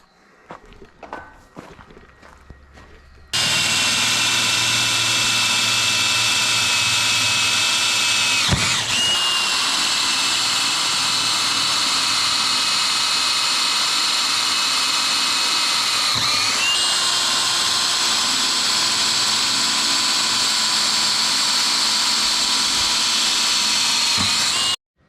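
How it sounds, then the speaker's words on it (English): A power drill with a new bit whirs loudly and continuously for a long stretch, its pitch dipping briefly twice as it bites into wooden deck boards on a gooseneck trailer. "let's go ahead and see if we can't drill this. I gotta get my drill here first"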